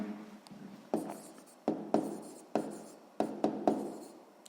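Pen or pencil writing on paper while working a sixth-grade maths exercise, a series of close scratchy strokes in short bursts with brief pauses between them.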